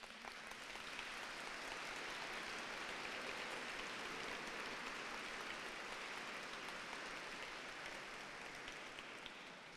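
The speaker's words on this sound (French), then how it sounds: "Nous les applaudissons." A church congregation at a Eucharist celebration in Chambéry applauds the choir, a soft, distant, even patter of many hands that continues steadily for about ten seconds without a break.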